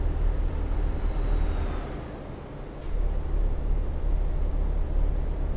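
A heavy truck in Euro Truck Simulator 2 labors uphill with a loud, steady low engine rumble. It eases briefly in the middle and then builds again, with a faint hiss above it.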